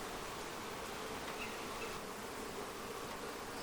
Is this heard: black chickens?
no